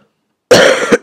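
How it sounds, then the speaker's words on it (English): A single harsh cough from a man, close and loud after a moment of silence, with a short second push at the end. "Sorry, I have sort of a cough"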